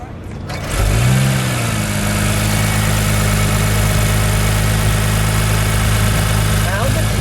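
A 2017 Acura NSX engine cranks and catches, then settles into a loud, steady idle with a deep, continuous rumble that holds to the end.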